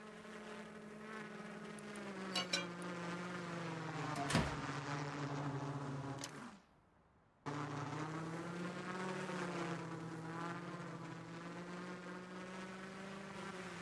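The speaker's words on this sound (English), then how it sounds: "With a drone scouting my base" A drone hovers near a mountaintop base in the game Rust, giving a steady whining propeller buzz with a slightly wavering pitch. It drops out briefly partway through, then resumes at the same level.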